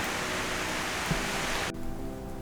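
Steady rain falls outside, a dense hiss that fills the whole clip, then drops slightly in level partway through while continuing as a constant wash with a faint low hum beneath.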